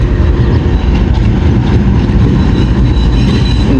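Interior of the 38 DN Baba Fareed Express passenger train running on a branch line from Lahore, with a loud, constant low rumble and rattle of the carriages and no pauses.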